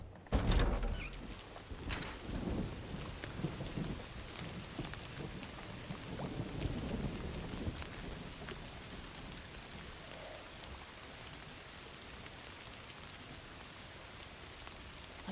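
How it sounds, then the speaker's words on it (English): Steady rain falls in the Indiana Jones and the Great Circle video game with a dense hiss and patter, as a low thunder rumble rolls in early and slowly fades beneath the continuing downpour. "Don't you love rain?"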